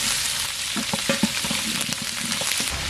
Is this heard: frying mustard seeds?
yes